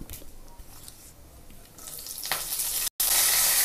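Curry leaves hit hot oil for a Tamil egg curry, and a soft, close stirring gives way to a loud, rising sizzle that stays strong through the end, broken by one brief dropout, with no talking.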